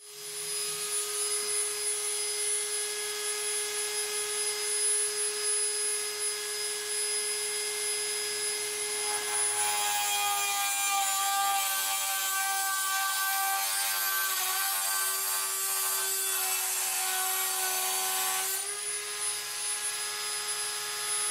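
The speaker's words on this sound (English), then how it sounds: "it's now time to have some fun and chop the power supply up with a Dremel" A Dremel rotary tool cutting into a computer power supply, a high steady whine that turns to a harsher grinding buzz midway, close and continuous with no voices.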